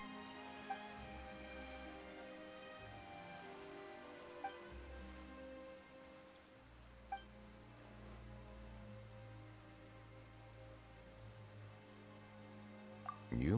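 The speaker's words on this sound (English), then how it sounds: "Why is it raining all of a sudden?" Rain suddenly falls in a story scene, a soft steady patter with a few sharp drops, faint beneath a low sustained musical drone.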